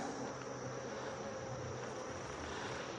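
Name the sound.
honeybees buzzing around hive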